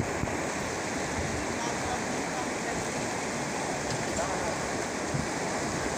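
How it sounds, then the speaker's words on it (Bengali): Fast water rushes through the sluice gate of the GK canal in Gobindagunia, Mirpur, Kushtia, a steady, dense, broadband roar that holds constant throughout with no break. "প্রচণ্ড বেগে পানির শব্দ হচ্ছে"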